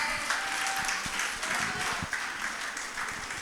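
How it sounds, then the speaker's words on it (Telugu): A crowd claps steadily and continuously at a cultural programme, a dense wash of many hands applauding with no voices over it. "ఒక్కసారి బిగ్ క్లాప్స్"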